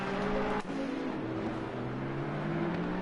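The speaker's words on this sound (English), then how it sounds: "As that sounds like a car that's gone off. That is a car that's gone off." A race car in the racing game Assetto Corsa Competizione runs off the track, its engine a sustained loud drone that dips briefly and then climbs steadily in pitch.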